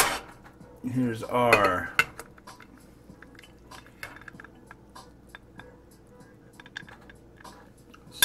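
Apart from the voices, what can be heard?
plate and cutlery being handled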